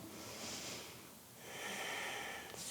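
Soft breathing during a core-engaging yoga pose with arms lifted and legs straightened, heard as faint, slow inhales and exhales in a quiet room.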